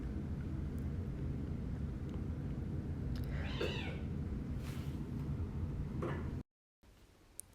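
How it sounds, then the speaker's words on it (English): Cats at home play-fighting let out a short, shrill meowing scream over steady background noise, followed by a brief yowl, then a sudden drop to near silence. "if you heard that little meow scream, it was them playing/fighting"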